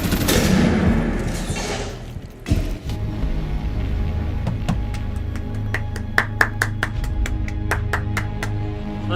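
Rapid bursts of gunfire in the tactical shooter game Rainbow Six Siege, starting with a steady rumble and a muffled blast, then a quick string of sharp, evenly spaced shots near the end over continuous background noise.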